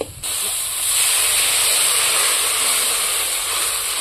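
Water poured into a hot pan of frying onions for a Bengali rohu fish curry, giving a loud, steady steamy hiss and sizzle that rises sharply after a brief quiet start and holds through to the end, with no talking.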